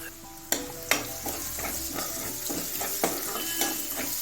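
Onion frying in hot oil with green paste for dry prawn masala, a constant close sizzle cut by several sharp scrapes and clanks of a spoon stirring against the pan.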